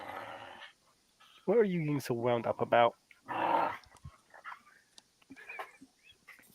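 A pet dog growls and whimpers, wanting a ball thrown, with warbling whiny vocalizations and low grumbles in short bursts close to the microphone, while a person talks to it in between.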